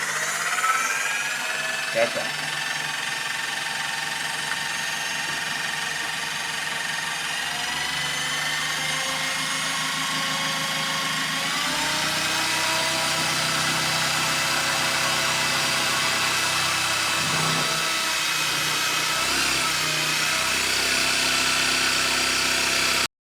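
A homemade generator test-runs at about 1000 RPM, giving a steady, loud mechanical whine and hum with drifting tones that holds for over twenty seconds.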